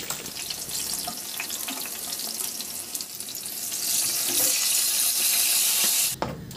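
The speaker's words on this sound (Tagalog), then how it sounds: "Magpainit muna ako ng mantika at iprito ko na rin yung 2 pirasong talong na hiniwa ko lang ng pa-serving bite" Bite-size eggplant pieces fry in oil in a pan, giving a dense, close, bubbling sizzle that swells louder midway and stops with a brief clatter near the end; nobody speaks.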